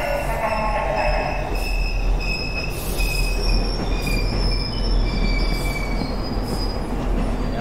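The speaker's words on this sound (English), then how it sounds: "Yes, the ghost train has arrived." A ghost train rolls in through fog with loud, sustained high metal wheel squeal over a steady rumble of the rails. The squeal rises and falls throughout, and no voices are heard.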